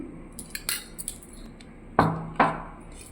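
Plates being set out and arranged for a home meal, with a few light clinks and taps of crockery and cutlery followed by two sharper, louder clacks near the end, close by and without talk.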